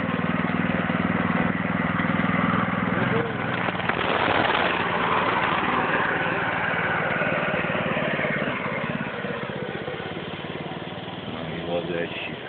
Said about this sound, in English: That's Grant, riding that Warrior 200